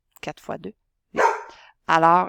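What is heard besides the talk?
dog barking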